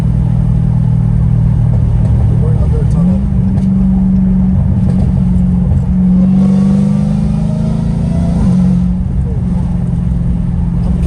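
A straight-piped Dodge Hellcat Redeye engine rumbles loud and close with a steady deep drone, then swells in a couple of rising revs midway before settling back.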